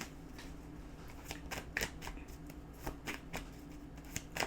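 Tarot cards are shuffled by hand, a run of crisp riffling flicks and soft card slaps in quick irregular succession, close and moderately quiet.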